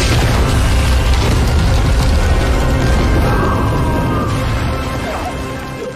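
A loud, sustained roaring blast fills the whole clip, dense and rumbling, slowly fading toward the end, with no speech.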